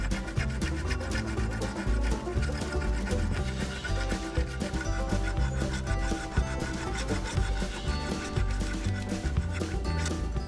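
Steady back-and-forth rasp of a hand file working holes in a forged Damascus sword crossguard, continuous dense scraping strokes close by, with no voice over it.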